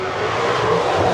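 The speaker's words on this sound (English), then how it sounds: "Got drag racing going on" Drag racing car accelerating hard past a supercharged 2024 Mustang GT setup, a loud steady engine roar holding through the whole moment with no voices.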